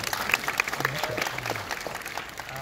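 A theater audience at a Smithsonian IMAX Q&A claps for the Russo brothers in a short, moderately loud round of applause, with voices talking faintly underneath.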